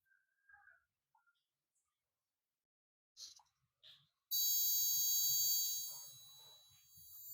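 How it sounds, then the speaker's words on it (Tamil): A fuel injector on a Ford Figo beeps during an injector-disable actuation test: a few faint chirps, then a loud, steady, high-pitched buzzing tone starts abruptly and holds before easing slightly toward the end. "ஒரு பீப் சவுண்ட் இல்லையா, அது வந்து இன்ஜெக்டர் 1ல இருந்தா வருது"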